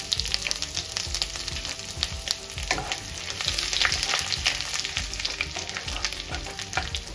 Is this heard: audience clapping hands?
no